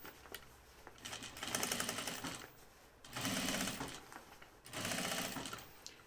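A sewing machine stitches a row through linen and Cordura for a flight suit, whirring in three rhythmic bursts with brief lulls between, close but fairly quiet, with no talking.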